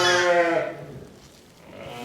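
Sheep bleating in a lambing pen, one loud close harmonic bleat trailing off over about half a second, followed by quieter low rustling and a faint rise of noise at the end.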